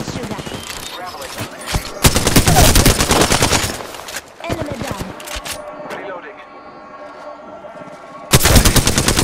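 Mastiff shotgun blasts in Apex Legends ring out in loud repeated bursts amid a busy firefight, with other gunfire, clatter and character voice lines mixed in between the shots.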